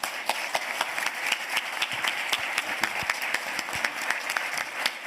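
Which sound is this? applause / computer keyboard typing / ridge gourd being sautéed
applause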